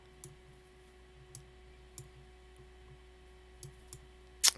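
A computer mouse clicking several times at irregular intervals, sharp close clicks over a quiet background hum, ending with a louder clatter.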